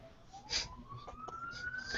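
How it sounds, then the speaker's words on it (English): Emergency siren wailing outside, faint and distant, one tone sliding slowly upward over a couple of seconds. "Oh, I hear a siren."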